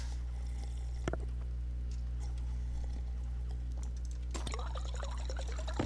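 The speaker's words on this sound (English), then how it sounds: "Drink a bottle of water." A bottle of water being drunk in the space-survival game Stationeers, a short pouring, gulping liquid sound set against a steady low machine hum, with a couple of small clicks.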